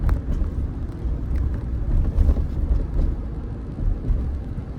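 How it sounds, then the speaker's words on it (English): Wind noise inside a Mahindra Thar Roxx 4WD diesel automatic at highway speed, a steady low rushing roar with road rumble filling the cabin, constant and fairly loud. "out on highways you can hear the wind noise, definitely"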